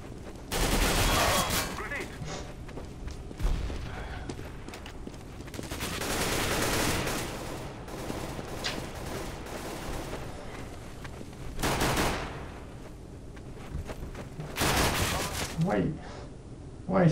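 Gunfire in a competitive Counter-Strike: Global Offensive match: several loud, close bursts of rapid automatic fire separated by quieter gaps, with players talking in between.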